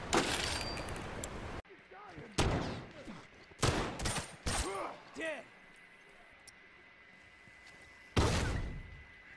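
Gunfire from the video game Factions comes in several sharp bursts separated by short quiet gaps, loud and close, with voices chattering between the shots.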